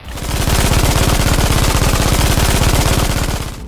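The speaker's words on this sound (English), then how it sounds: "the Americans called it Hitler's buzzsaw because of its shredding sound it makes as the bullets cut through the air" A German WWII machine gun, known to Americans as Hitler's buzzsaw, fires one continuous, extremely rapid burst that sounds like a loud, close, tearing roar, with individual shots blurring together for several seconds before it stops.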